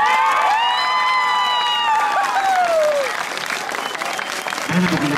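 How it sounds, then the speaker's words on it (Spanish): A crowd at a huapango dance contest during a town fair applauds dance couple number 6, loud dense clapping mixed with cheers and whistled or whooping tones, a sliding high shout fading out, and a voice entering near the end. "aplauso para la pareja número 6."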